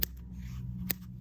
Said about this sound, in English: I'm going to go ahead and trim.